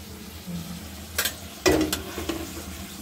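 Vegetables such as pumpkin, banana and potato frying in a home kitchen for a puja offering, a low sizzle with a few sharp stirring scrapes and clatters near the pan.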